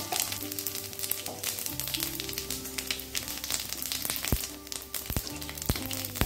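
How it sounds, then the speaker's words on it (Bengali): Cumin seeds sizzle and crackle in hot mustard oil in a wok, a continuous frying hiss with sharp pops scattered throughout and occasional clinks of a utensil against the pan. "হালকা ভেজে নিয়ে 30 সেকেন্ড জিরেটা আমি ভেজে নিলাম।"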